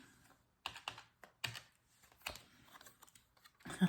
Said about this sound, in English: I'm going to use my calculator again.